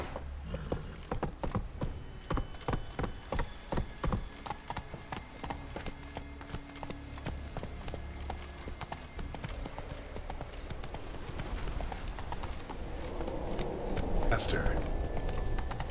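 Roach the horse gallops through The Witcher 3 world, hooves clip-clopping in a steady fast rhythm up close while game music and ambience fill the background, with faint voices underneath.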